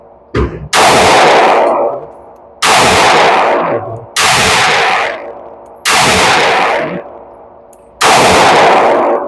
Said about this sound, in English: put some shots around the corners